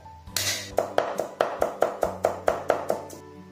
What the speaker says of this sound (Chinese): 最后我们来剁点蒜末